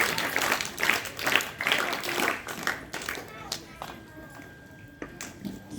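Audience at a Zilla Parishad primary school in Umari claps for a teacher's birthday, a dense burst of hand claps that thins out and fades while voices carry on faintly beneath.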